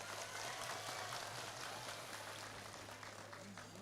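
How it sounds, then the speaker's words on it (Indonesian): An audience applauds a regent at a public gathering, a faint, even patter of many hands with a steady low hum beneath it, continuing without a break for nearly four seconds. "tepuk tangan untuk Mas Bupati"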